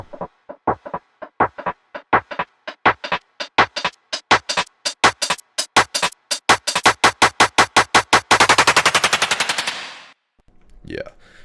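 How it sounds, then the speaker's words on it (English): A build of snare hits in an Ableton remix speeds up into a rapid roll as a filter opens and brightens, loud and alone, ending abruptly before a brief quieter tail. "for the main build snares, we got basically the same drums that are going to be in our drop section, and there's also a filter opening up"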